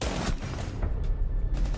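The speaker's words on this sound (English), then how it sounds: "that shotgun sucks" Shotgun firing in Rainbow Six Siege, with a few loud, heavy blasts close by and short gaps between them.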